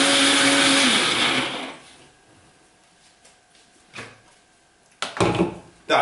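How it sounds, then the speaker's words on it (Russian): A blender whirs loudly while blending a microgreens smoothie of about 750 grams with 250 grams of water, then shuts off, followed by a few clunks and knocks of handling. "Так, теперь перебиваю смузи."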